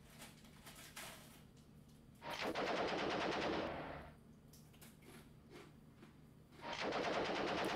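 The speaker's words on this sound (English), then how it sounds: "with six machine guns into the gun's position" Machine-gun fire in the Armoured Commander II tank game, two sustained loud bursts of rapid automatic fire, each lasting over a second, over a low steady background hum.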